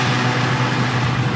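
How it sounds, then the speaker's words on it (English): Construction machinery drones in a steady, dense engine-like rumble with a broad wash of noise, continuous and fairly loud without pauses. "That noise is construction."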